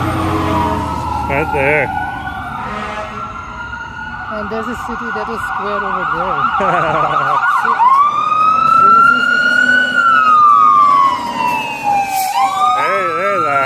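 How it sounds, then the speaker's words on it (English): A fire engine siren wails loudly on a city street during a Car Free Day festival on Main Street, sweeping up and down as it passes close by while people chat over it. "It's a fire engine!"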